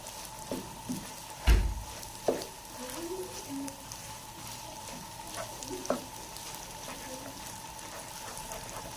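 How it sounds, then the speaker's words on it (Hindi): Makhandi halwa frying in a pan gives a soft steady sizzle with occasional spoon knocks and scrapes as it is stirred, one firmer clatter near the start, under a constant low hum. "इसे हम 1 मिनट तक इसमें डाल के मिक्स करेंगे"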